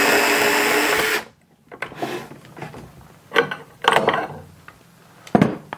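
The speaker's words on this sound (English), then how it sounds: "Today, we're going to be reviewing the DeWalt Impact Connect copper pipe cutter." A DeWalt Impact Connect pipe cutter attachment works through copper pipe with a loud, steady whir that stops abruptly. Scattered mechanical clicks and clunks of handling follow nearby.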